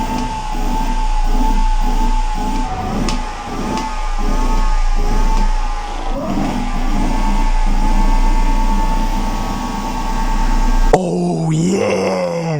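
G4 Max electric vehicle on supermoto street tires running at full throttle, a loud steady electric motor whine holding high and strong for about eleven seconds before cutting to a brief lower sound.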